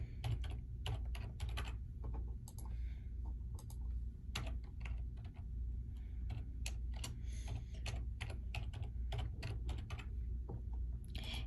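Steady, continuous typing on a computer keyboard while an email and mobile number are entered into an online form, close clicky keystrokes in irregular bursts over a low background hum.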